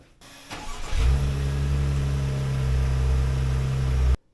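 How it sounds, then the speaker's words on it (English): An Acura MDX engine cranks briefly, catches, and settles into a steady, low rumbling idle that continues until it cuts off abruptly. "we're going to start the engine, let it idle for 1 minute"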